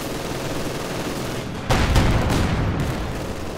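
Rifle and machine-gun fire rattles through a Company of Heroes 2 battle, with a dense burst of shots breaking out midway over a constant roar of combat noise.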